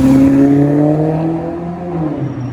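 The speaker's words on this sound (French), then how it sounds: "on entend encore le V8 Atmo de la Grand Cabrio ronronner" Maserati GranCabrio with a naturally aspirated V8 driving past on a Paris street, a loud, close, smooth engine drone whose pitch slides downward as the car moves away.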